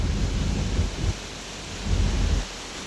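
Rain falls steadily on a road, a broad, even wash of close hiss with low rumbling swells coming and going.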